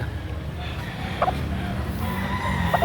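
Chickens cluck and give short calls amid a noisy, bustling poultry market in Lipa City, Batangas, with a low hum and faint voices.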